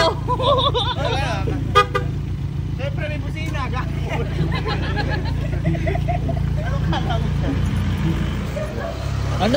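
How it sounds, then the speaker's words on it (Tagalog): Car horn toots a few times amid steady traffic rumble and people talking nearby, with a sharp beep standing out near the start. "Siyempre may busina."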